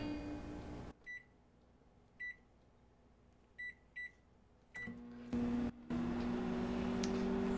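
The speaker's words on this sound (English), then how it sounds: "heat the coffee, put it in the microwave" A microwave oven heating a cup of coffee gives a series of short, clear beeps, then a door clunk and a steady low hum as it starts running, close by with no talk.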